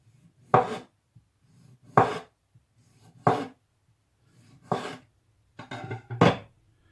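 A knife slices through a homemade lasagne, five distinct close cutting strokes spaced about a second apart, each a short crisp burst, with no talking.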